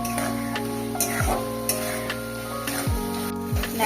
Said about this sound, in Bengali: এবার আমি মশলাটা ভালোভাবে কষে নেব।